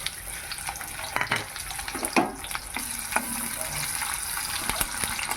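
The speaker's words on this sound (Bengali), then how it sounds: "এবার তেলের ওপরে দিয়ে দিচ্ছি এলাচ দারচিনি দিয়ে দিচ্ছি একটা তেজপাতা দিয়ে দিচ্ছি কুচিয়ে রাখা পেঁয়াজ" Onion, cardamom, cinnamon and bay leaf fry in hot oil, with a continuous close sizzle broken by scattered clicks and scraping stirs, and no talking.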